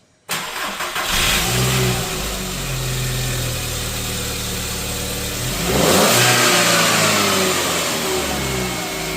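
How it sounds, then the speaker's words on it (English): A 2003 VW Beetle engine cranks and catches, then settles into a loud, close, steady run, with a swell of revving partway through before it returns to a rough idle. "We'll try to give it a start."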